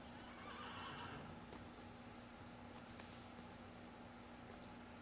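A horse whinnies in the Assassin's Creed Brotherhood video game, a steady neigh over a constant background hum with faint hoof clip-clop, no voices.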